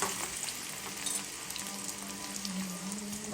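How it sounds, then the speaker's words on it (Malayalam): Chopped shallots and fenugreek fry in hot oil, making a quiet, steady crackling sizzle throughout with no one speaking. "5-6 ചെറിയ ഉള്ളി അരിഞ്ഞിട്ടാണ് അത് അതിലേക്ക് ചേർത്തിട്ട് നന്നായിട്ട് ഫ്രൈ ചെയ്തെടുക്കാം."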